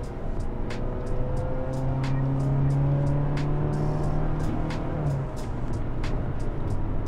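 A Mazda CX-60's 2.5-litre naturally aspirated petrol engine idles steadily in normal mode, a close, continuous low hum with faint harmonic whine and no voices.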